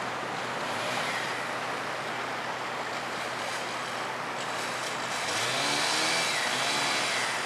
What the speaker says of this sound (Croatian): ko može platiti ovako fino žuborenje vode?